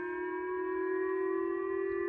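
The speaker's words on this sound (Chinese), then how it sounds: "空袭警报大响，划破早晨的宁静。" Civil defense air raid warning siren sounding in Japan during a missile alert, a loud, steady sustained wail holding one pitch with harmonics, continuous and alone.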